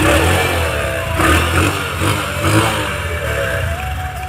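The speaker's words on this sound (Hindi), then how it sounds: "अब मारने जा रहा हूँ सेल्फ, देखते स्टार्ट होती है" Motorcycle engine started by electric self-start after a new battery is fitted, then running and revving: a loud, close mid-pitched engine note that rises and falls with throttle blips, alone without talk.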